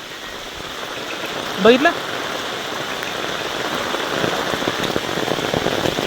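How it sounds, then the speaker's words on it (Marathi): Light drizzling rain falling steadily outdoors at Mahabalesvar, a soft continuous patter throughout, with a brief spoken word near the start over the rain. "पाऊस असा पडतोय, रिमझिम रिमझिम"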